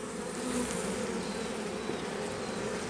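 Honey bees swarm in and around an open hive box, making a dense, continuous close-up buzzing hum that stays steady throughout.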